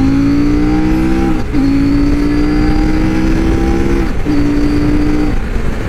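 A CF Moto 800 MT Touring motorcycle engine accelerates loudly and close, its pitch climbing steadily through gears with two brief dips at shifts, alone without talk.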